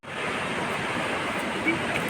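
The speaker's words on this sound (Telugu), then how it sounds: "మొత్తానికైతే వాటర్ ఫాల్ దగ్గరికి అయితే వచ్చాము" A steady roar of falling water rushes without pause, broad and constant, heard from close range at Lodda waterfall.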